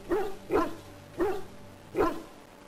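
Four sharp barks from a dog in the fantasy video game Dragon Age: Origins, evenly spaced and close, standing alone without talk.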